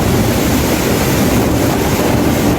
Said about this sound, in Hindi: डैम से गिरते पानी की आवाज लोगों के बदन में सिहरन पैदा कर रही है।